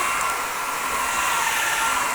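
A Dreame Mova K10 Pro vacuum cleaner runs on carpet with a loud, steady, airy motor whoosh, unbroken and close throughout.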